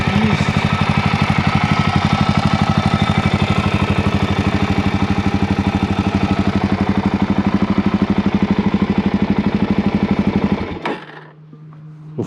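A modified Suzuki DRZ 400 SM single-cylinder motorcycle engine idles warm with a steady, loud, pulsing thump and clatter, running close by for about eleven seconds before cutting off abruptly into near silence.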